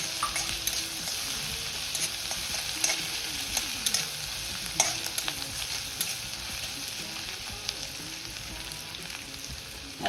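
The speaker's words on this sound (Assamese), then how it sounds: "এইটো ভজা তেলখিনিতে আদা নহৰু দি দিম।" Ginger and garlic paste frying in hot oil, a continuous bright sizzle and crackle with scattered pops and occasional stirring scrapes, close and steady throughout, no speech.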